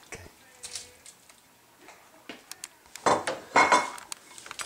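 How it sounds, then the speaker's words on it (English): Shrimp going into a pan of Alfredo sauce for shrimp Alfredo, heard as scattered clinks and scrapes of utensils on cookware, with louder clattering bursts toward the end and no talk. "Let's add the shrimp now."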